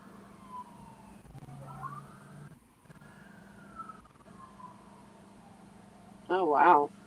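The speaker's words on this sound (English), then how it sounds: "if you guys are hearing these sirens, I'm sorry." Emergency vehicle sirens wail faintly in the distance and draw closer, their rising and falling tones sweeping under a steady low hum, with a brief louder burst near the end.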